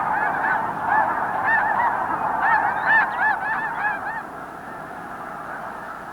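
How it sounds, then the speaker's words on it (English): A flock of snow geese flying overhead on their way south, many birds honking in a steady overlapping chorus that swells midway and then thins out, fairly close with no talking. "overhead, flocks of snow geese pass by on their way back south"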